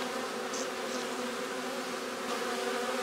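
Honeybees buzz around an open hive during feeder rim removal, a steady, soft, continuous drone at close range with no voices.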